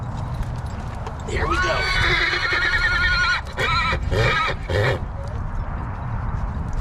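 A horse being saddled and broken in the desert, hooves clip-clopping and a loud whinny rising midway, with someone talking over it at close range.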